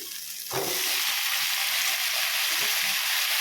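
Cut tomatoes tip into a hot frying pan with a sudden loud burst at the start, then settle into a steady, close, broadband sizzle of frying that continues without pause.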